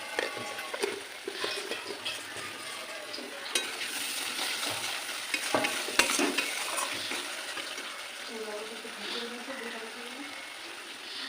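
Spices for paneer masala sizzle in a pan with tomato, salt and sugar while a utensil stirs and scrapes, producing a busy crackle with intermittent clinks and scrapes against the pan.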